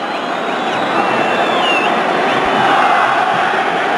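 About 70,000 fans fill a stadium for a Real Madrid vs Barcelona Clásico in the Spanish Super Cup, played far from Spain. Their loud, continuous roar has whistles and shouts threaded through it.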